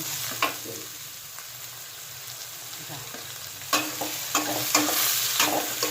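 Mussels stir-fried in a pan for a Thai basil dish, with a steady sizzle of oil under scattered scraping and clattering stirs that get busier toward the end.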